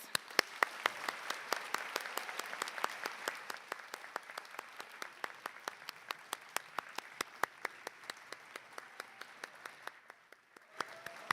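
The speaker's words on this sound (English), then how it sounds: "Please join me in one more round of applause for our graduates" A graduation commencement audience in a theater applauds the graduates, a moderate spread of claps with sharp individual hand claps standing out, tapering off near the end.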